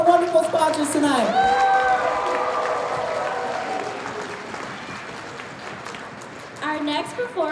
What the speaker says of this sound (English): Can we get one more round of applause, please, for all of our wonderful sponsors tonight?